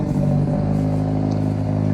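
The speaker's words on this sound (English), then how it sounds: "That's a neighbor's car across the street." A car across the street idles with a steady low engine hum and faint clatter, moderately near and constant throughout.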